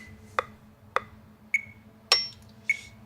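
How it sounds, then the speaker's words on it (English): An electronic drum kit's built-in metronome, a Roland TD-4 module, ticks five evenly spaced sharp clicks about every 0.6 seconds, close and clean against a faint steady hum. "And here's the sound of the metronome."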